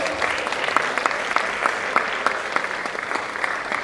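A hall audience at a College of Medicine scientific conference plenary session claps for an honoured professor, dense and steady applause with sharp individual claps standing out, fairly close and sustained throughout.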